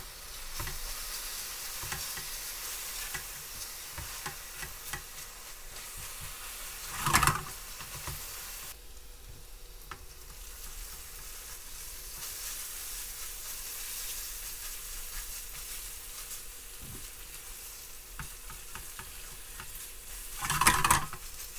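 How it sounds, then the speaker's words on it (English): Onions and sliced chilies fry in a pot for a garlic chili chicken, a steady broadband sizzle running throughout with two brief louder bursts of stirring or clatter, no voices. "Then add the sliced chilies and allow to infuse for a few more minutes until the onions begin to"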